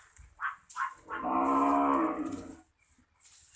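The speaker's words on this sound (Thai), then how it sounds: "วัว" Cattle on a farm giving a loud, long, close moo of about a second and a half, with shorter lowing calls just before it and quiet background sounds after.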